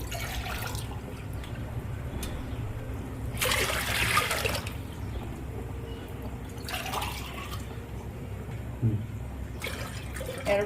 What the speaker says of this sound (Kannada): 2 ಗ್ಲಾಸ್ ನೀರು ಹಾಕೊಂತೀನಿ.